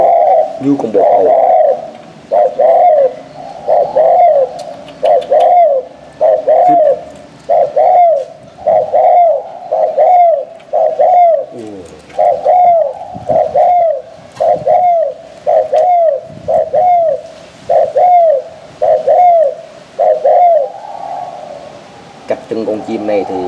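Decoy doves, a trained pet dove and a partly trained one, cooing in a steady run of loud, close, rhythmic coos, repeated every second or two with brief gaps.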